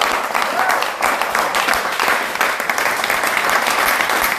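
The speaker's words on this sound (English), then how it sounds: "give Peter a great round of applause" Sustained, full applause from an audience at an auction master class event rolls on steadily and loudly for several seconds without talk.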